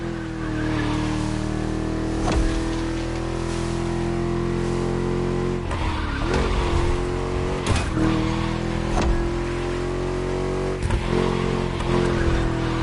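A V8 engine drones at a steady high pitch in The Crew Motorfest, holding a sustained tone with brief dips and roars as it shifts and surges, with occasional tire noise and thumps over the constant hum.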